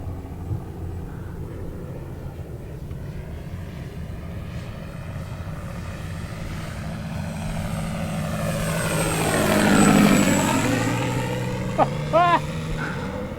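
Low flyby of a radio-controlled Cessna 182 model fitted with a sound module, its droning engine swelling as it draws near and sweeping through a clear pitch shift as it passes, over steady outdoor background noise.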